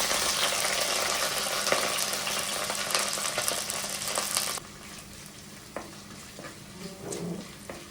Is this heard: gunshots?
no